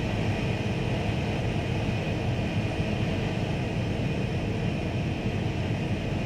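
A simulated AV-8B Harrier II+ jet engine in a flight-sim descent gives a steady, dense whooshing roar with a faint high whine on top, unchanging throughout.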